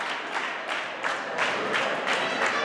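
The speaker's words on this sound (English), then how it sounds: "Crowd trying to rally behind Limits here." Wrestling crowd cheering to rally behind Jimmy Limits, with rhythmic swells of clapping and shouting that rise and fall roughly every third of a second, filling the arena.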